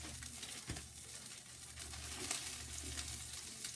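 One medium onion sizzling as it fries in a pan for a couscous tagine, a faint, steady crackle with a few sharper pops and stirring scrapes, no talk over it.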